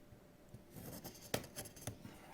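Someone opens the box of a POCO X4 GT smartphone: soft rustling and scraping of cardboard with a few light clicks, quiet and close, with no talking.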